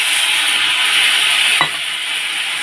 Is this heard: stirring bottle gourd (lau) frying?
yes